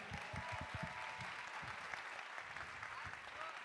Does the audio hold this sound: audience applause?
yes